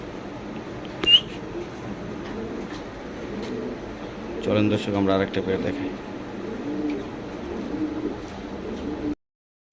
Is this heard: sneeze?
no